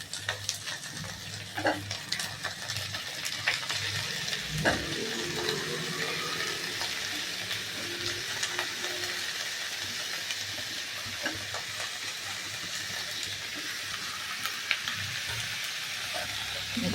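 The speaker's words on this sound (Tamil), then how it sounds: "கத்திரிக்காய் நல்லா வதங்கட்டும்." Chopped eggplant frying with onion in a pan, a continuous soft sizzle with occasional stirring scrapes and clinks close by, steady and moderately quiet with no voices.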